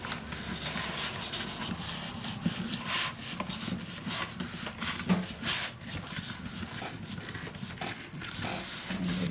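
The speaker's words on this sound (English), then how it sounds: "burnish it down" Paper folio cover burnished by steady hand rubbing, a continuous close scratchy swishing with repeated strokes and no talk.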